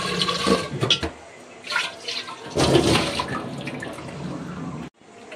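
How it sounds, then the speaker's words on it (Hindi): Water swirled around inside a clay water pot and then poured out, giving loud sloshing and gushing in bursts that stop abruptly near the end. "इसे घुमाते हुए सारा पानी इसका निकाल देंगे"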